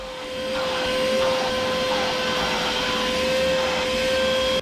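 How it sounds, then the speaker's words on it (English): A vacuum cleaner runs continuously at close range, a steady droning roar with a high whine, cleaning boat cushions with no talk over it. "Vacuuming, cleaning our cushions, getting everything nice and clean before we leave."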